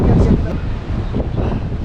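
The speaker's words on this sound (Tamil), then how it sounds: "சில்லுன்னு காற்றடிக்குது வேறு." A chilly wind gusts at the seaside in Kanyakumari, making a loud, continuous rushing roar that buffets the microphone throughout.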